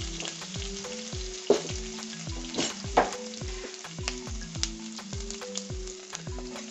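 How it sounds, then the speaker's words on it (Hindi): Chopped ginger and green chillies fry with mustard seeds and asafoetida in hot oil, giving a steady close sizzle. Quick stirring adds brief scraping bursts, and a regular pattern of low repeating tones runs beneath. "हम डालेंगे इसमें कटा हुआ अदरक और हरी मिर्च, और इसे देंगे एक क्विक स्टर।"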